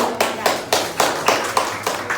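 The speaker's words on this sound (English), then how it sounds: "An applause, please." Audience at a strudel show clapping for a volunteer, a few rhythmic, evenly spaced claps close by, like a small crowd clapping in unison.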